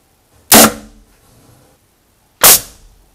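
Two sharp, loud air gun shots, about two seconds apart, each a pellet smashing into an ink cartridge set in ballistic gel, with quiet between them.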